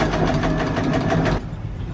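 A sewing machine stitching a mosquito net runs in a fast, even mechanical whir up close, then stops abruptly near the end.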